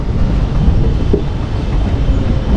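A passenger train travelling from Madurai to Theni clatters over the rails with a loud, continuous rumble and rhythmic wheel clacks, heard close from on board.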